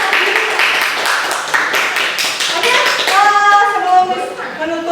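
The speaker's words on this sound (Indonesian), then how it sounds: "Kita berikan aplaus dulu untuk kelompok 2" Classroom applause for a student group presenting in a lesson, a dense run of many hands clapping continuously for several seconds, fairly loud and close, with faint children's voices mixed in near the end.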